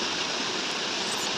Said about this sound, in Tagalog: yung tubig na yan, ang spring na yan, galing yan sa bukid